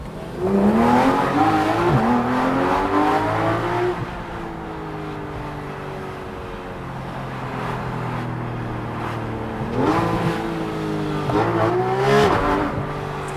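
A Porsche GT3 RS engine revs hard through rising gear pulls, loud and close, settles to a steady drone, then surges again with more rising revs.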